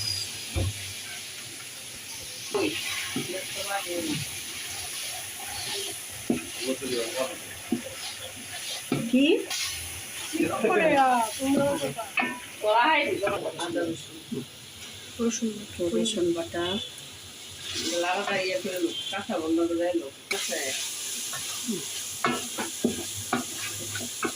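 Fried rice with soy sauce fries and is stirred in a pan, a steady sizzle with scraping stirs running throughout under a person talking nearby.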